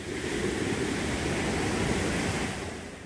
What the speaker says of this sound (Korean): 최근 비가 많이 와서 물소리가 아주 우렁차네요.